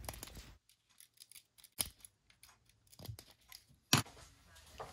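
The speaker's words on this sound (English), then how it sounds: "I then use my Swiss Army knife scissors to trim off the excess Q-bond flashing" Small Swiss Army knife scissors snip several times at close range, trimming excess sealant flashing, with sharp isolated cuts scattered among quiet rustling and soft handling noises.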